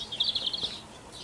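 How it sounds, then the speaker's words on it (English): Birdsong along a countryside walk: faint high chirps and a short warbling phrase over quiet outdoor background. "I'm hoping you can hear all the beautiful bird song"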